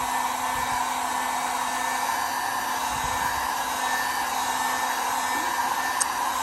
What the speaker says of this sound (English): I'm going to heat this up.